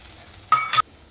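Tamarind water and tomato go into a hot pan of tempering. Two quick, loud bursts of sizzling hiss follow, close by and lasting only a moment, then the pan settles back to a faint simmer.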